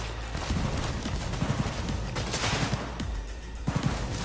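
Scattered gunshots from shooting in Cyberpunk 2077, several sharp reports spread irregularly over a dense, noisy game soundscape, moderately loud.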